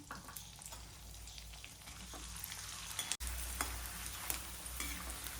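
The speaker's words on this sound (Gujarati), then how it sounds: "આપણે બીજા ગુંદરને પણ તળી લઈશું" Edible gum (gond) frying in hot ghee makes a busy, crackling sizzle with frequent popping and stirring scrapes, steady and close throughout, briefly broken by a single sharp dropout.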